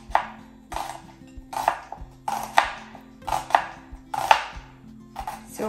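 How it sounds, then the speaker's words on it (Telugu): A knife slices an onion into long strips on a cutting board, six crisp chopping strokes falling in a steady rhythm with brief pauses between them, close and clear with no talking. "సో ఆనియన్ని ఇలా పొడవు పొడవు ముక్కలు కట్ చేసుకోవాలన్నమాట"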